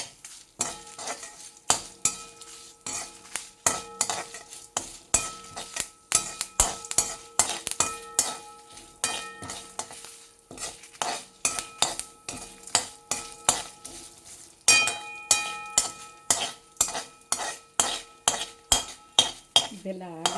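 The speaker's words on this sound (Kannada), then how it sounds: "ಆಮೇಲೆ ಬಾಳೆ ಹೂವನ್ನು ಹುರಿಬೇಕು" Chopped banana flower being stir-fried in a pan for chutney, a spatula scraping and clinking against the metal in a quick, repeated rhythm over a light sizzle, close and with no talking.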